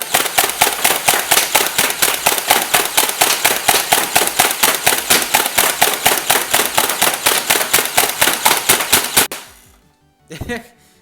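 A modified Nerf Super Stampede blaster firing third-party darts in full auto, a loud, close, steady rapid burst of sharp mechanical thumps for about nine seconds, then stopping, followed by a brief rattle.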